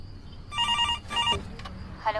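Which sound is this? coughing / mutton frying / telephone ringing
telephone ringing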